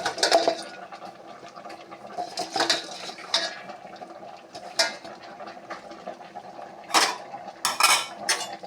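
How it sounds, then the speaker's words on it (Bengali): Vegetables including ridge gourd, pumpkin shoots and others stirred in a cooking pot, with scattered metallic clinks and scrapes of a spoon, some louder bursts near the end, over a low kitchen background. "এখন একটু নেড়ে দিচ্ছি।"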